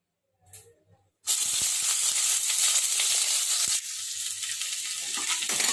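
Dry chillies and chopped onion hit hot white oil and burst into a loud, sudden hissing sizzle that runs steadily, eases slightly partway through, and carries faint clicks of the pan.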